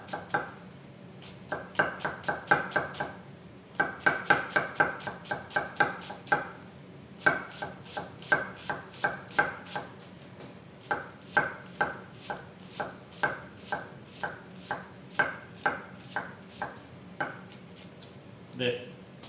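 Knife chopping an onion on a cutting board in a home kitchen, a long run of quick, crisp rhythmic taps in bursts, close and fairly loud, with occasional faint talk.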